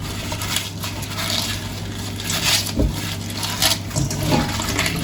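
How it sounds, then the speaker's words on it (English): Sương sâm leaves crushed and mashed by hand in a bowl of water, a continuous wet squelching and sloshing close by with rhythmic surges and occasional splashes, no talking. "what we're doing now is just basically crushing the leaves just to extract the essence and the juice"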